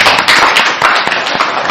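A church congregation applauding, dense overlapping handclaps that stay loud and steady for the whole brief moment, no voices over them.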